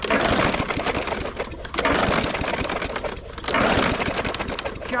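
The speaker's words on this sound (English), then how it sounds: "That muffler sounds pretty out of it too." A Briggs & Stratton small engine on a John Deere machine runs with a worn muffler, giving a loud, ragged, rattling exhaust note that surges and sags in uneven pulses.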